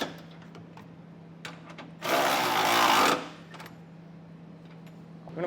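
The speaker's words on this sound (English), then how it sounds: "You can come back with a 19mm socket now and snug down all of the hardware." A power tool with a 19mm socket snugs down trailer hitch hardware on a 2024 Mazda CX-5 in one loud, steady whirring burst of about a second, with quiet handling clicks before and after.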